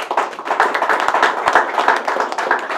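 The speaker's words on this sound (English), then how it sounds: "How about another round of applause for Andreas, the Black Bears staff." Audience applause after speeches at an event announcing the Black Bears' new lease with Broome County, a steady, dense clatter of many hands clapping close by, continuous for several seconds.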